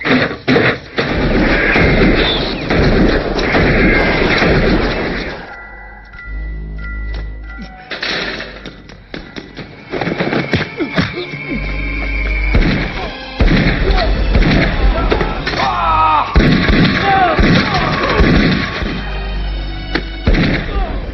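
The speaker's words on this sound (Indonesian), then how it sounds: "Kemudian aksi baku tembak pun terjadi." Gunfire rings out in a shootout scene from a Hong Kong gambling film, with sharp repeated shots and thuds scattered among dense soundtrack noise and voices, loud and close.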